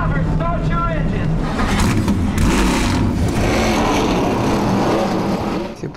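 Race car engines fire up and rumble together at the start of a race, a loud steady mechanical drone with rising revs, while a voice talks over it.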